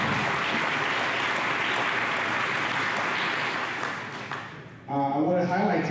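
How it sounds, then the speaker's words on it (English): Sustained audience applause fills a Hall of Fame event hall, dense and steady, thinning out near the end before a voice starts speaking over the room. "Please give a round of applause."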